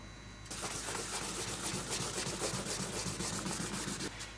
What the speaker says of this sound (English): there's areas that are still shiny, you want to sand them down